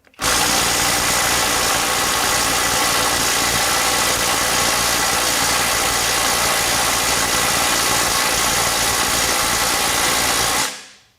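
A Skil PWRCore 12V impact wrench hammers continuously at a bolt set to about 100 foot-pounds, a loud, close, unbroken rattle lasting around ten seconds before it cuts off abruptly.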